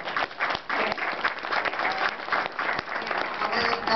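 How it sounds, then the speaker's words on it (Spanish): A crowd applauds at a book presentation for a dictionary of Mexican writers, giving a full, continuous clatter of many hands that swells and holds steady for several seconds. "Aplauso."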